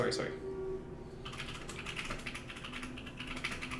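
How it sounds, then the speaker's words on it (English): Fast clattering typing on a computer keyboard with loud, clicky keys, a dense run of close taps under quiet background voices during a tabletop game session. "each key you press sounds like you're typing 3 keys"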